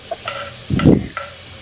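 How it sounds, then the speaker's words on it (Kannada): Chopped tomatoes with salt frying and being stirred in a pan for a millet kichdi, giving a brief scrape of the spoon and a soft sizzle over a short stretch with no talking. "ಇದನ್ನು ಸಹ ಸ್ವಲ್ಪ ಸಾಫ್ಟ್ ಆಗೋ ತಕ್ಕ ಚೆನ್ನಾಗಿ ಇದನ್ನು ಫ್ರೈ ಮಾಡ್ಕೊಳ್ಳಿ"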